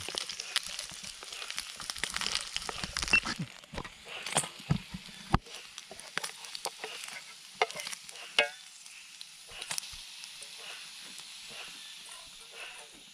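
Food fries in a pan at a forest campsite, a crackling sizzle punctuated by scraping stirs and irregular louder bursts, fading to a softer hiss toward the end.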